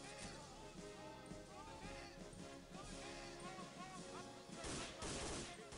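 Rapid gunfire bursts in the World War II shooter Day of Defeat, with dense overlapping shots and a louder volley near the end, under a steady game soundscape.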